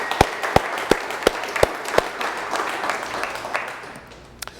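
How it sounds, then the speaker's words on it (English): Scattered applause at a company all-team meeting: a handful of sharp, separate claps stand out early, then soft clapping thins and fades out, with no one talking. "Give him a round of applause."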